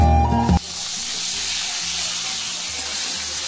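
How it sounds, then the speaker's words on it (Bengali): Pangas fish frying in a small amount of oil, a steady close sizzle and hiss that continues alone after a brief louder burst at the very start. "অল্প তেলে কিন্তু দেখো মাছগুলো আমি ভেজে নিচ্ছি"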